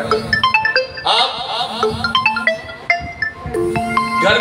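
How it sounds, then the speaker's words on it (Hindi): A mobile phone ringtone plays during a prayer gathering, a bright repeating electronic melody sounding loudly and steadily with no one talking over it. "किसी का फोन जो है वो स्टिल बज रहा है"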